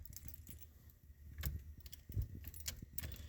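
A car key turned in the ignition of a Cessna Citation with a jangle of keys on the ring, a few quiet metallic clinks close by.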